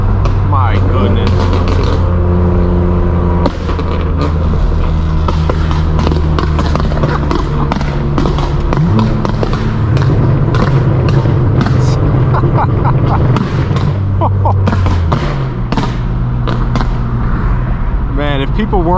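Straight-piped BMW M4 F82 with a loud exhaust, its engine note droning and shifting in pitch with sharp pops and crackles scattered throughout, heard close and continuous with a voice exclaiming over it.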